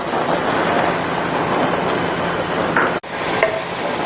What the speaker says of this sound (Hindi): हमने ऑयल इस्तेमाल किया और इसमें प्याज फ्राई करेंगे